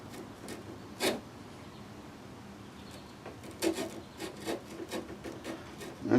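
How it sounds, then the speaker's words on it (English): A small Zona saw works into a wooden hinge on a restored Taylorcraft aircraft, making quiet, irregular rasping strokes close by, with a few sharper scrapes near the end. "I'm going to use this little old Zona saw to hopefully pierce through and see if I can open it up a little bit better"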